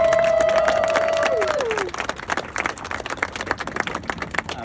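Applause from an audience at a grand opening ribbon-cutting, dense steady clapping that starts over a fading tone and then thins into scattered claps with some crowd noise.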